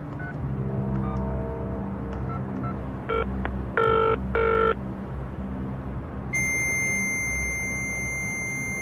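A telephone call to the Ministry of Defence, with a few tonal dial beeps giving way to a steady, high electronic ringing tone, all over a low rumbling background hum and with no speech.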